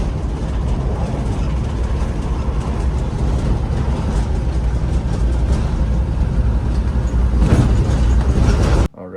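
A 1984 Toyota Sunrader motorhome drives along in third gear, filling the cabin with a loud, steady engine and road drone that rumbles evenly throughout before cutting off abruptly at the end.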